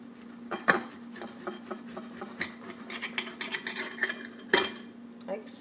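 A knife cuts through a cheeseburger on toasted bread, with crisp crunches and scraping taps against a plate, including a couple of sharper clinks, close and unaccompanied by talk.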